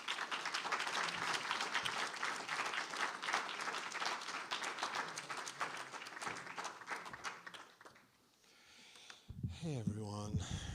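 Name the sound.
audience applause welcoming a speaker to the stage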